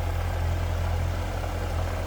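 A supercharged 6.2-liter LT4 V8 in a 2016 Chevrolet Corvette Z06 idles smoothly, close up and steady, a deep, even low rumble with no other sounds.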